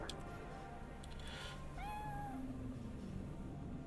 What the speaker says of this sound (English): Oh my god, there's a cat.